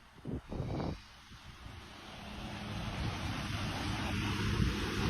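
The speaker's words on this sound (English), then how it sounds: "Rewatching this video I took of the ocean" Ocean waves rolling onto the shore in a steady, building wash with wind noise on the microphone, preceded by a few brief knocks at the start.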